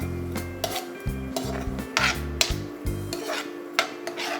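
Onions and green chillies are stirred in hot oil in a pan for fried rice. A spoon makes repeated close, rhythmic scraping strokes over a low steady hum, with a faint sizzle beneath.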